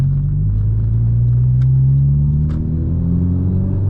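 Garrett GTX 2860R turbocharger spooling on a 2018 Honda Civic Si, a loud continuous engine rumble with rising tonal whine as the car pulls, steady and close throughout.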